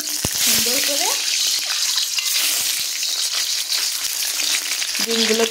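Eggs frying in hot oil for a cauliflower, potato and egg curry, a steady broad sizzle filling the whole stretch at close range, with brief voice-like tones near the start and end.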